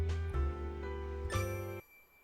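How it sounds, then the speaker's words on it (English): A shop door's chime jingles as the door is pulled open, a bright metallic tinkle with a second ringing burst before it cuts off, set in a pub scene of a graphic audiobook. "The jingling of the door chime greeted me as I pulled open the door."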